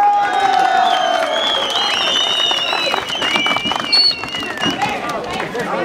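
A crowd at an outdoor religious festival in Vilcabamba, Pasco, cheering and clapping loudly, with whoops and shouts layered over continuous noisy applause, voices mingling throughout.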